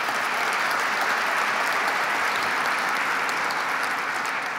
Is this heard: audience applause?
yes